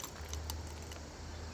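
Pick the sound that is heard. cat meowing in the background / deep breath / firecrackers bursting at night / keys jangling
keys jangling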